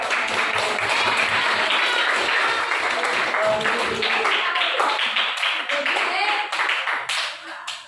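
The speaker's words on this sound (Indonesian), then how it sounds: "Oke, tepuk tangan dulu." Students in a junior high Indonesian-language class clap together, a dense, steady burst of applause up close that thins and fades over the last couple of seconds, with a few voices mixed in.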